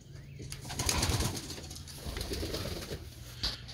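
Pigeons in a loft coo softly and repeatedly amid a busy backdrop of bird calls, with occasional wing flutters, at moderate distance and no voices.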